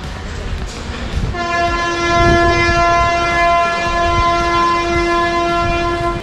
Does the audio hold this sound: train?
yes